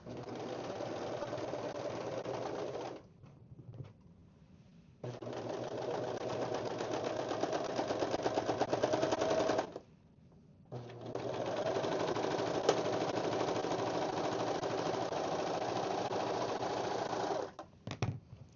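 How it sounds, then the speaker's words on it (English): A serger stitches a seam through sock fabric in three long bursts of fast, buzzing mechanical whirring, close and fairly loud, separated by short pauses with no talk. "we're going to take this back to the serger, put that same seam allowance back in there, and take off a little bit more of it"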